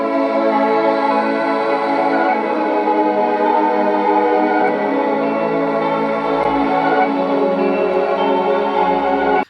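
A full electronic track intro with strings and pitch-bent vocal pads layered into a thick, continuous chordal wash, loud and steady, with a low pulse joining near the end before an abrupt cut.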